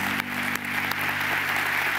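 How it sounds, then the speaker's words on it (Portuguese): Steady audience applause at a Christian faith-healing program, a dense wash of many hands clapping without pause, moderately loud and fairly close. "vamos aplaudir a Jesus"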